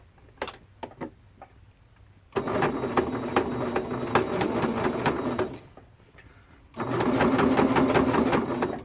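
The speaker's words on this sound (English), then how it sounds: "We're sewing right in the ditch, right next to this binding." A sewing machine stitches in the ditch right beside the binding of a T-shirt quilt, giving two long runs of steady, close motor whirring with rapid needle clatter, separated by a short pause with a few light clicks.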